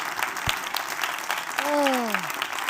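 Audience applause rises at a speech at the Museum of the Bible, mixed with crowd noise and a brief tonal sliding sound near the end.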